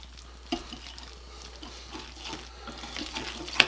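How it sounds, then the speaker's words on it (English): Spices (cayenne, salt and pepper) whisked together in a bowl, giving a soft, continuous scratchy stirring sound at low volume with a sharper clink near the start and another at the end. "I'm just going to whisk this together."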